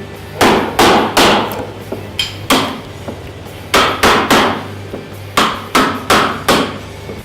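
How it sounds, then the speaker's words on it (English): A hammer strikes a hand chisel in sharp, loud, ringing blows, about a dozen in irregular pairs and singles, each decaying quickly, with no talking. "this is a hand chisel and a hammer"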